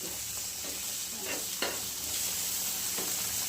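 Onion and tomato frying in a pan, a steady sizzle throughout with a few soft scrapes and knocks of a spoon stirring, close and even, without talk.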